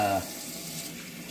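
Tap water runs into a sink in a steady, close rush while hands are washed, with a brief voice at the very start.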